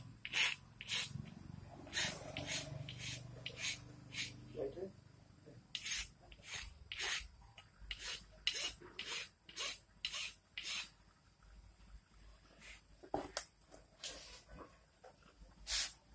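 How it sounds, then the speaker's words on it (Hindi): A hand file rasping a metal gear bush from a Tavera gearbox, a steady run of sharp scraping strokes about one per second, close and clear, with someone speaking briefly at the start. "इसको 2 जगह से हमको थोड़ा सा फाइल मारना है ताकि उसमें कायदे से बैठ जाए हार्ट में"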